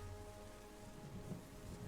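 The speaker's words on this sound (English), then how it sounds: "I hear rain." Rain falls steadily in the terraforming game Terra Nil, a faint, even hiss of downpour with a low rumble beneath, and no voices.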